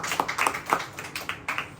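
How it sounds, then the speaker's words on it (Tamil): A church congregation claps hands together in a steady, even rhythm of sharp claps about four per second, moderately quiet with a roomy sound and no talking. "கைத்தட்டி ஆண்டவரை மையப்படுத்தலாமா?"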